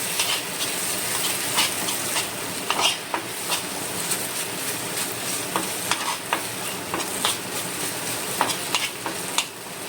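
Spice paste mixed with vinegar roasting in a pan, with a steady sizzle and frequent close scrapes and knocks from stirring throughout.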